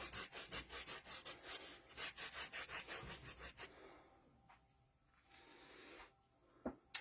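Paintbrush swiping wet paint back and forth on a sunset crane painting, a steady run of close, rhythmic rubbing strokes that fades into quiet with a few faint touches.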